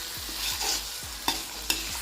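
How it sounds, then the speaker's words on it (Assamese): Jackfruit seed curry frying in a pan over low gas, with a soft continuous sizzle under repeated scraping stirs and two sharper clacks of the utensil against the pan. "10 মিনিট এনেদৰে আমি অকণমান দেৰি ভাজি ল'ম।"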